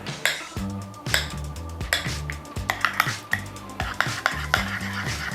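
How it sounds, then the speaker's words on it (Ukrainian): A spoon stirs sour cream sauce with dried garlic and paprika in a bowl, repeated close scraping strokes with light clinks against the dish in a steady rhythm. "Додаю до сметани сухий часник, паприка. Гарно примішую."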